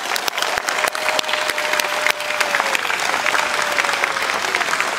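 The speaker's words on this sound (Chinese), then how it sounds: "也请大家一起给他们一个最热烈的掌声" Dense applause from a large crowd at a presidential inauguration ceremony in Taiwan, sustained and even throughout, with a faint steady tone running beneath the clapping.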